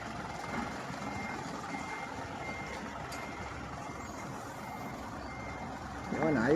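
A reversing truck of about 4 tons gross weight beeps steadily while parking, the beeps running over a continuous engine drone at moderate distance, growing slightly louder near the end.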